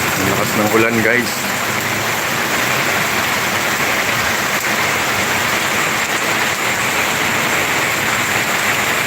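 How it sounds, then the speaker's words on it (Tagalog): Steady, dense roar of heavy morning rain pouring down in Bicol, Philippines, loud and continuous, with a brief voice speaking near the start. "Ang lakas ng ulan guys."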